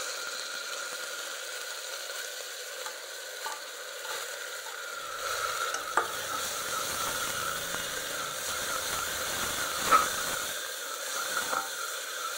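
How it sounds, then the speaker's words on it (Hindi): Garlic and ginger frying in a pan for a village-style chana dal and arbi curry, a faint steady sizzle and hiss with a few small clicks and scrapes, no talking. "अब लहसुन अदरक डाल रही हूँ।"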